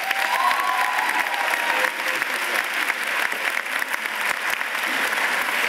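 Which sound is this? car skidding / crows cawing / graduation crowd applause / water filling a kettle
graduation crowd applause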